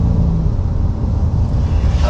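Inside a 2022 Honda Ridgeline on the move, a low, steady engine hum and road rumble fill the cabin at a constant level with no voices.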